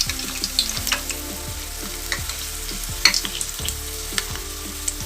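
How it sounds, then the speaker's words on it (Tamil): Guava leaves fry in heated ration palm oil, giving a close, steady crackle with repeated bubbling pops and stir scrapes throughout, with no voices. "இலையில் உள்ள ஓசையெல்லாம் நல்லா அடங்கிடுச்சு"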